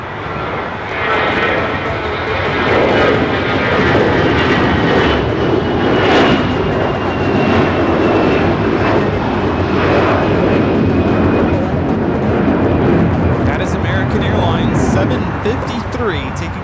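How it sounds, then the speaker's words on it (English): An Airbus A321 jet takes off from runway 24 left at LAX with a loud, sustained engine roar that holds strongly throughout, while voices talk over it. "Off to Atlanta on the A321. This is Bear Flight 23 now rolling on 2-4 left."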